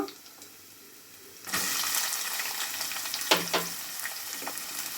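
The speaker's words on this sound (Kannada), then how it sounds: "ಈರುಳ್ಳಿ ಚೆನ್ನಾಗಿ ಫ್ರೈ ಆಗಲಿ" Onions hit a pan already holding frying carrot for carrot rice, a sudden loud sizzle bursting in after near silence, then a steady close hiss with a few clattering stirs.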